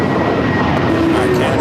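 A Piper light aircraft takes off at LAX with a steady, distant engine drone, while a voice talks over it.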